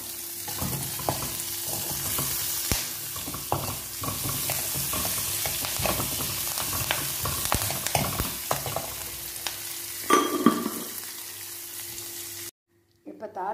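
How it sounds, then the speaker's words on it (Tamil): Curry leaves crackle and sizzle steadily in oil in a pan while tempering for buttermilk curry, a spoon scraping and stirring at intervals; a brief splash of water near the end, then silence. "கருவேப்பிலை தாளிக்கிறது"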